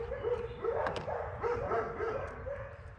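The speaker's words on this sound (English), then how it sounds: "Ah, the neighbor's dogs." Neighboring dogs bark repeatedly near an outdoor shooting range, a busy run of overlapping woofs and yips at moderate distance that continues without pause.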